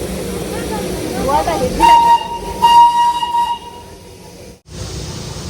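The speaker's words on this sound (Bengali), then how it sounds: "চলে গেল টয় ট্রেনটা ওইদিকে" A coal-fired steam toy train passes, its shrill whistle sounding twice in sharp tones between bursts of hissing steam and rumbling wheels, loud and close, then receding into background noise.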